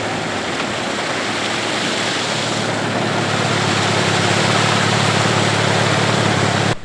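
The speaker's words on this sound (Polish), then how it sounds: "Ponton motorowy pracuje na pełnych obrotach" A motor pontoon boat engine on Lake Balaton running at full revs, a loud steady droning roar that holds constant and cuts off abruptly at the end.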